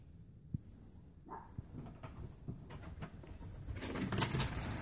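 Cedar waxwings flutter and flap through the branches of a nearby ornamental apple tree with high thin calls, leaves rustling, growing busier and louder toward the end.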